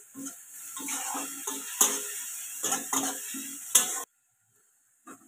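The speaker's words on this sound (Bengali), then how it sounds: "পেঁয়াজটা আমার ভাজা হয়ে গেছে" Onions fry in a pan with cloves, cinnamon and cardamom: a bright, steady sizzle runs under repeated scraping stir strokes, then it cuts off abruptly into near silence, with one faint tap at the end.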